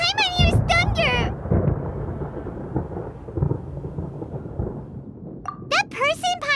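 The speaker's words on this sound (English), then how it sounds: "Paimon hears thunder!" Thunder rumbles through a storm in a Sumeru cutscene from Genshin Impact, a long deep roll that swells and fades over several seconds, with voices speaking briefly just before and after it.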